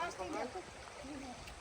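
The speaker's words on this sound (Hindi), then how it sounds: "कल कल बहता हुआ पानी" A gently flowing stream in Balmonte Park, Vilnius, Lithuania, gives a steady, soft murmur of running water. A voice-like sound briefly rises over it near the start.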